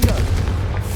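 A Confringo fire spell blast in the Hogwarts Legacy video game lands as a loud, dense booming burst with heavy low rumble, sustained through the whole second without any pause.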